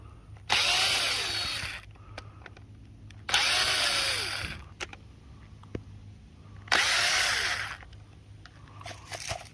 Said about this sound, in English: I'm going to take off all of the hinges on the shutters now.